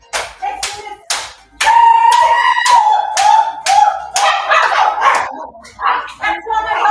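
Several dogs bark in a quick run of sharp, repeated barks, fairly loud and close, with a person talking over part of it.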